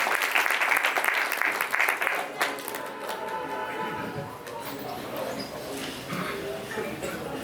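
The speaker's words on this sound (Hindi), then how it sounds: "एक बार जोरदार तालियों से अभिनंदन" A gathering at a religious community event applauds loudly at first, then the clapping thins out and fades to a quieter murmur of scattered claps and crowd noise.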